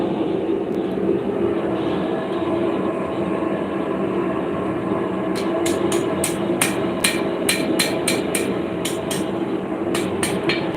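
Hammer striking metal on an anvil in a workshop while bending a piece, a run of sharp ringing blows in an uneven rhythm starting midway, close and loud over a constant background hum.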